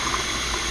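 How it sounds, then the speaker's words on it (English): Water is poured out of a cup in a kitchen while hot cocoa is being made without a microwave. It makes a loud, steady, close-up splashing gush that fills the whole short moment. "Then next, pour out the water."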